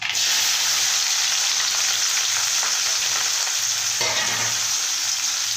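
Onion pieces and green chillies fry loudly in a pan for upma, a dense continuous sizzle with occasional stirring scrapes, close and without any talk.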